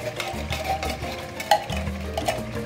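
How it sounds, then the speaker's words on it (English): Beans are stirred in a cooking pot with a spoon, making a continuous run of scraping, swishing strokes and occasional light clinks against the pot, close and fairly steady throughout. "You stir as you go."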